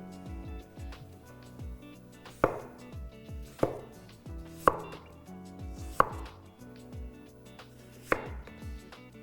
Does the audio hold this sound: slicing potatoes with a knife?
yes